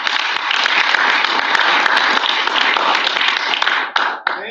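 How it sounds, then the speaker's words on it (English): An audience at a bird photography mug reveal event breaks into dense, loud applause with many hands clapping at once, then it thins and cuts off near the end. "let's give a round of applause."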